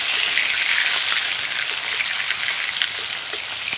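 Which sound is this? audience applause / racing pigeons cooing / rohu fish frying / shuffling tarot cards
rohu fish frying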